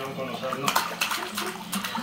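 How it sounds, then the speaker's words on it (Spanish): Water runs steadily from a tap into a bathtub, a continuous splashing rush with people talking over it. "¡Sale el agua!"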